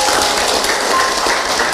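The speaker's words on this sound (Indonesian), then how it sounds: "Tepuk tangan buat kita semua." Audience applause at a religious lecture, a brief dense burst of many hands clapping, loud and continuous without gaps.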